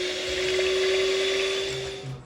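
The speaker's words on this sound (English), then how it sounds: "Let's start mixing now." An electric mixer whirs steadily through chocolate cake batter made with cream and vanilla syrup, a continuous close motor drone that fades at the end, with no talking.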